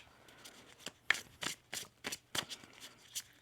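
A deck of tarot cards being shuffled, a series of crisp riffling bursts in irregular rhythm, close and fairly quiet with no talking.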